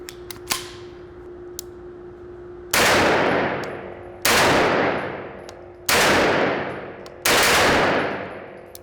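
Four loud, evenly spaced gunshots from a Grand Power Stribog SP9A1 Gen 2 9mm carbine fired indoors without a suppressor, barrel fitted only with its thread protector; each crack rings out with a long reverberant tail, preceded by a faint click.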